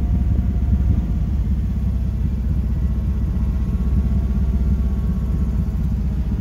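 A Kawasaki Teryx KRX 1000 side-by-side engine brakes down a steep Utah trail in four-wheel-drive low range, giving a loud, continuous low rumbling drone that holds steady with no pauses.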